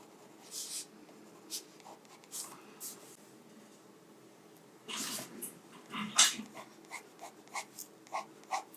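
Pencil cross-hatching to shade a sea dragon drawing, heard as soft, close scratchy strokes in short irregular bursts, quiet at first and busier and denser in the second half.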